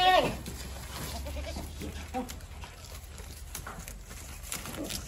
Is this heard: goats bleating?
yes